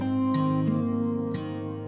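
Picked acoustic guitar melody from the chorus of an arrangement, a few soft plucked notes over sustained backing tones, steady and moderately quiet.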